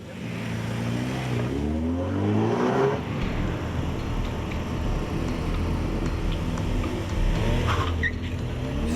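A race car charges through a hot lap, its engine note climbing sharply through the revs in the first seconds before settling into a loud, rough roar with tire and road noise, heard from close by.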